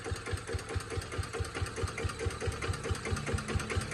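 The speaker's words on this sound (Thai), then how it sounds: "เครื่องสูบเดียวเนี่ยเราก็ใช้ใน การเกษตรอยู่แล้วเราก็ใช้รอบต่ำแค่นี้กำลังขับมันก็มีอยู่แล้วนะครับ" A single-cylinder farm engine running on used engine oil as fuel, idling at low rpm with a steady, even chugging beat of regular thumps, close and alone.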